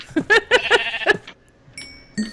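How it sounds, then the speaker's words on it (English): Sheep in the video game FTB Minecraft give several quick, loud bleats close together, followed by a short quiet stretch and some faint electronic game tones. "Sheep! Get out of my planter! Oh, you die, sheep."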